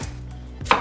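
A single knife stroke chopping onion into big chunks on a cutting board, one sharp close thud after a brief quiet pause.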